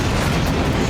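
A brief, loud rocket explosion roar in northern Israel, a dense, rumbling burst of noise with no voices.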